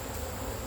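Honeybees swarm close around a beekeeper at a hive, a steady, dense buzzing hum with no break for under a second, fairly faint and alone.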